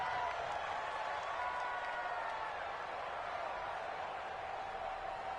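A stadium crowd in a PS4 American football video game cheers as a steady, distant roar that stays even throughout with no talking over it.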